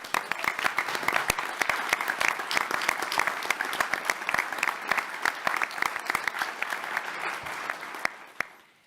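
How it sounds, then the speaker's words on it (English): Audience applause after a call to cheer the NAU Health team, a dense, steady crowd clapping that holds for about eight seconds and then fades out. "So a big round of applause for our team here at NAU."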